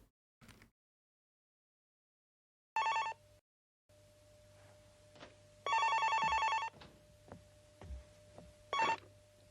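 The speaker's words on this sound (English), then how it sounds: "So we've got a phone call." An incoming phone call rings as short electronic telephone bell bursts repeated several times with gaps between, bright and trilling over a faint steady hum, with no voices.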